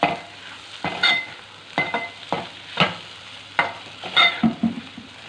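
Ridge gourd and egg curry being stirred in a frying pan, repeated scraping strokes of a spoon against the pan at an uneven rhythm over a soft low sizzle, close and without talk.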